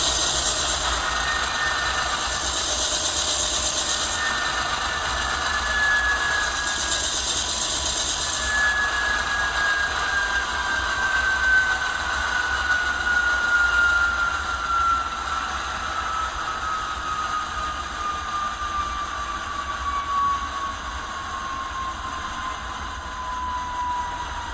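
A ScaleTrains Norfolk Southern AC44C6M model diesel locomotive with sound notches down, its engine drone and a slowly falling whine easing lower over a steady, close hum.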